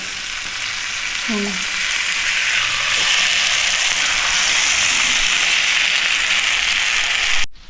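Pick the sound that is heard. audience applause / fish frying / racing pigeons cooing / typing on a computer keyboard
fish frying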